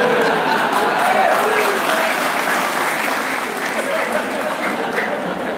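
Sustained applause from a large audience, loud and continuous with crowd noise throughout, no pauses.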